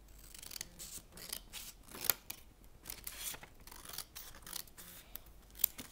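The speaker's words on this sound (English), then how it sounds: "cut along the crease" Scissors snip through folded origami paper along the crease, a series of quiet, crisp cuts with a few sharper snips, close and alone with no talking.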